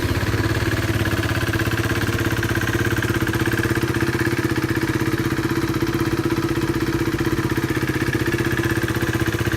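A 2016 KTM 390 Duke motorcycle engine running at a steady idle, a loud, even, rapid thrumming with a rattly mechanical edge that holds without change for nearly ten seconds.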